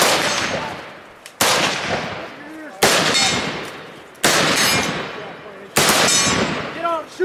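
Loud rifle shots crack out at regular intervals of about one and a half seconds during small-unit tactical training outdoors, each blast sharp and decaying, with shouted voices heard between them.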